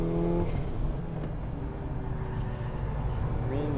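Works Mini Cooper FF race car running at Tsukuba circuit in a front-wheel-drive class battle, a steady loud engine drone with shifting pitch as it drives, close and continuous, with faint talk underneath.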